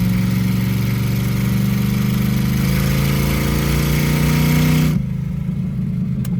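A car with a manual transmission pulls in second gear, its engine droning loud and steady with the pitch slowly climbing, then cutting off sharply near the end as the revs drop to a lower hum.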